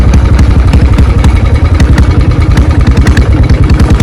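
A Royal Enfield Bullet 500 motorcycle engine idling just after starting, a loud, close, steady thumping beat with mechanical clatter running throughout.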